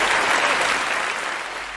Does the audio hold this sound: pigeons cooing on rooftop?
no